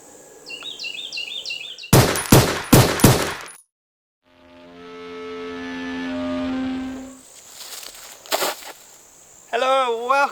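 Four or five loud, sharp gunshots ring out in quick succession at an outdoor shooting range, fired at undrilled bowling balls. A long sustained tone follows, then another shot, with birds chirping and a voice at the end.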